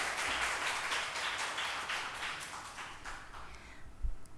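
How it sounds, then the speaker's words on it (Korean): A church congregation claps to welcome a member stepping up to share about a mission trip, a moderate, fairly even patter that thins and fades out near the end. "우리 박수로 맞이해 주시기 바랍니다"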